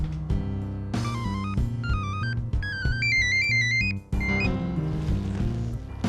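A melodic phone ringtone plays steadily, a bright synthesized tune over a repeating bass pattern, with a brief cut partway through.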